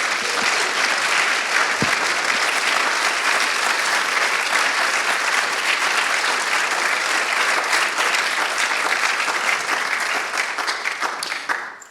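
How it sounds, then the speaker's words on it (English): Sustained audience applause at a university NAIDOC speaker series event honouring Chloe and Richard, a dense steady wash of many hands clapping for about eleven seconds before tapering off at the end. "Can we just give Chloe and Richard a round of applause?"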